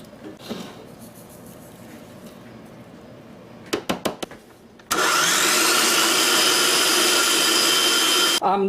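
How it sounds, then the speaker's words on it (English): A food processor blitzes garlic with olive oil and lemon juice, starting as a loud steady whir about halfway through and running without a break, after a few short clattering knocks and quiet background noise. "2 teaspoons of olive oil, lemon juice, and our our garlic into a food processor"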